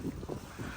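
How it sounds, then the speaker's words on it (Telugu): Strong wind gusts buffet the microphone on a farm in Korea after rain, in a brief, low rumbling rush with no voices. "గాలి కూడా చాలా ఎక్కువగా ఉంది"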